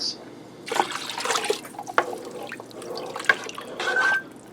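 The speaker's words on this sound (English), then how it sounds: "now I'm going to add in 2 cups of water." Water pours and splashes into a pot for beef stew in uneven gushes, with trickling and dripping between, close up and fairly quiet.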